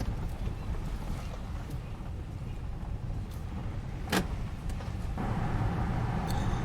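Interior road noise from a 2016 Honda Pilot on a test drive, a steady low rumble and hum throughout with a brief click midway and slightly louder noise near the end; no talking.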